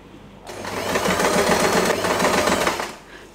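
A sewing machine stitches a fabric-covered headband with felt, a close, loud rapid mechanical whir that starts abruptly, runs steadily for about two and a half seconds, then stops.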